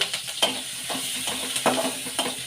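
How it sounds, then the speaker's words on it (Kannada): Green chillies and mustard seeds fry in hot oil, a steady close sizzle with irregular spattering pops and occasional stirring scrapes throughout, no voices. "ಎಣ್ಣೆಲಿ ಚೆನ್ನಾಗಿ ಹಸಿಮೆಣಸಿನ್ಕಾಯಿ ಫ್ರೈ ಆಗಲಿ."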